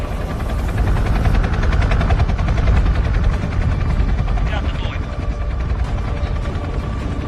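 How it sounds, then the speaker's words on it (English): A Lego City rescue helicopter starts up with a loud, steady rotor-like mechanical whirr and rapid chopping pulses throughout, while voices speak over it. "Start the new rescue helicopter."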